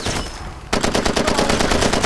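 Rapid automatic gunfire from the video game Far Cry 2 bursts in after a brief quiet moment, then rattles on in a fast, even stream of loud, close shots.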